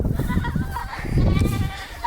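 Young goats in a farm corral bleating repeatedly and overlapping in a loud, close, continuous chorus of wavering calls.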